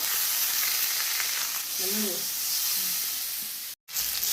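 Green chillies and paste frying in a pan, a continuous close hiss of sizzling oil with faint stirring, briefly cut to silence near the end before resuming.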